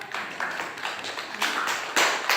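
A classroom group applauds the students who just presented, steady clapping with rising bursts of denser claps, moderately loud and close, no speech over it.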